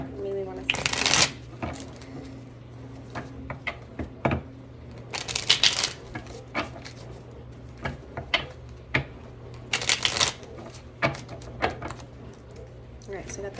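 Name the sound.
shuffling tarot cards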